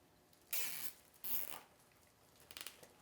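A plastic zip tie is ratcheted tight around a metal wreath ring in two quick, close zipping pulls, followed by a few faint clicks, with no talking.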